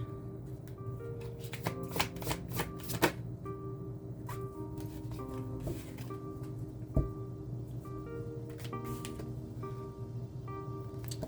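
A mediumship card deck being shuffled by hand, soft repeated riffling and card flicks close by over a quiet background with a faint steady hum, no talk.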